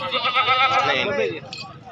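A goat bleats loudly and close by at a goat market, one long wavering cry lasting over a second, with brief background sounds after it.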